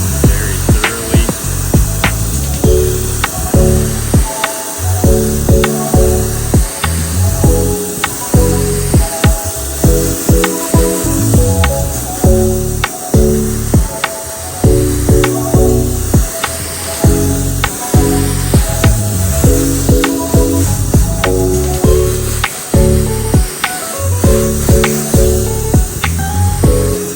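A strong, steady water spray rinses a ceramic-coated car, hissing continuously and loudly at close range, with no talk.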